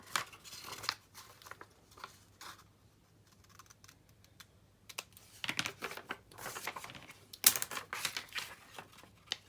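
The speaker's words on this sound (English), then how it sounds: "I'll grab the next sheet and trim those corners off" Paper sheet corners trimmed for a mini Christmas journal, a series of quick close crisp snips and rustles in irregular bursts, quieter in the middle and busier toward the end.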